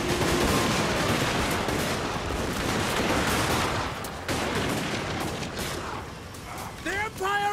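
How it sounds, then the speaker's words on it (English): Empire crossbowmen and gunners fire in a Total War: Warhammer battle, giving a dense, continuous roar of volleyed gunshots and crackling shots that runs the whole time, with a voice briefly at the end. "So, the crossbowmen have opened fire, and there's the gunners."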